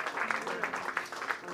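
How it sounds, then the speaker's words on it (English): A church congregation clapping in praise, a steady patter of many hands with voices mixed in, fairly faint. "Give him a clap of praise."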